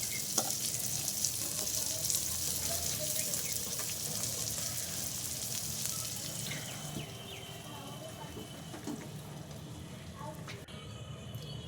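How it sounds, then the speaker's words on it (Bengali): Egg and cabbage pizza frying in a pan gives a steady, close sizzle that carries on evenly from start to finish. "এবার আমরা অপর সাইডটি ভেজে নিব যাতে খাবারটি খেতে অনেক সুস্বাদু মনে হয়"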